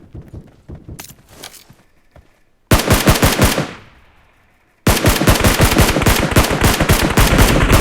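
Rapid automatic gunfire in the PUBG Mobile battle royale game, loud close bursts that break off into a fading tail before a second sustained burst resumes.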